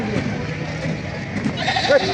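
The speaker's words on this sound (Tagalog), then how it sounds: "So, pinakamalaking kambing ngayon." An oversized goat bleats briefly near the end at a market in Padre Garcia, Batangas, over people talking close by and steady background noise.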